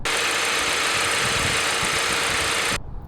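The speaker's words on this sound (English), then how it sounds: "It makes this gravelly, grumbly noise as it revs, so it doesn't feel like it wants to rev at all." A 2020 Audi Q3 2.0T Quattro engine giving a rough, gravelly, grumbly drone as it revs, loud and sustained from inside the car before cutting off abruptly at the end; no talk.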